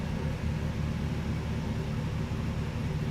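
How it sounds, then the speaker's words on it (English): A truck engine idles steadily with a low, deep exhaust rumble, close by and fairly quiet, with no revving or voices. "Let you hear that idle for a second."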